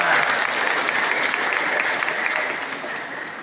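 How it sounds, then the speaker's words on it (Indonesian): Applause from a congregation at the opening of the Holy Door for the 2025 Jubilee at a Catholic parish, a dense steady wash of many hands clapping that fades slightly toward the end, with no talk over it. "Tepuk tangan."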